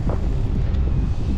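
Strong outdoor wind buffeting the microphone on a mild December day in Sochi, a loud continuous low rumble with no pauses.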